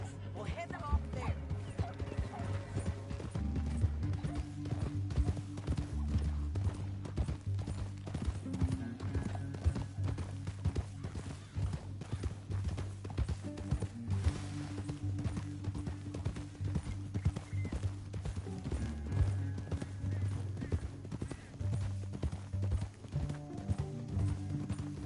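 Horse hooves clip-clop steadily through a Red Dead Redemption 2 canyon ride, a continuous mid-level gallop under game music and voices.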